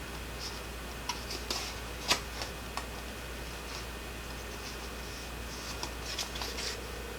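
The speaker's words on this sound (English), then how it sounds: "I'm angling my scissors and I'm just cutting right around that tire" Scissors snip paper in a series of small, close, crisp clicks at an irregular pace while cutting carefully around a printed shape, quiet and with no talking.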